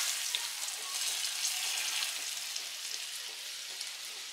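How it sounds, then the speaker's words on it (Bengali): Bay leaf tempered in hot oil left from frying a hilsa fish head, giving a dense, steady, crackling sizzle like light rain, fairly quiet and continuous throughout. "ইলিশ মাছের মাথাটা এইভাবে এপিট ওপিট করে ভেজে নিয়ে সেই তেলের মধ্যে ফোড়ন দিতে হবে একটা"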